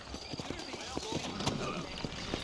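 Horse hooves clip-clop at a steady walking rhythm on a town street in Red Dead Redemption, moderately close, with game voices and background ambience mixed in.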